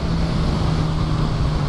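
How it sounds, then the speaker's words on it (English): Stock exhaust of a 2016 Suzuki GSX-S1000 motorcycle while riding, a steady low grumbling engine drone mixed with wind rush, loud and continuous throughout with no talking. "but for a stock exhaust, the thing has some grumble to it"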